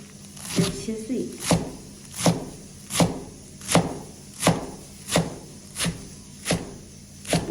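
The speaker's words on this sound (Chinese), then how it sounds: "接下来我们把洗干净的韭菜给它切碎。" Knife chopping washed Chinese chives on a cutting board in a steady, evenly spaced rhythm of sharp close thwacks, about ten strikes, with a person talking over the chopping.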